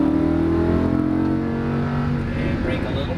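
A Lamborghini Huracan's engine on a race track drones loud and steady from inside the car, its pitch shifting slightly as it comes out of a turn, with a voice talking over it.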